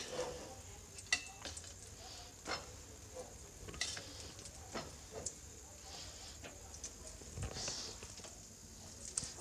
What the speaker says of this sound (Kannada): ಈ ಬನ್ನನ್ನ ನಾನು ಇದರಲ್ಲಿ ಹಾಕ್ಕೊಳ್ತೀನಿ ಅಂದರೆ ನಾನು ಎರಡು ಕಡೆನೂ ಇದನ್ನು ಸ್ವಲ್ಪ ರೋಸ್ಟ್ ಮಾಡ್ಕೊಳ್ತೀನಿ